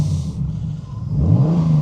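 Turbocharged Honda S2000 engine revving, a low steady drone that climbs in pitch toward the end, heard close with no talk.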